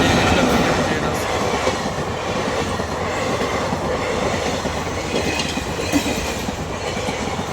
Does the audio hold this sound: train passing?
yes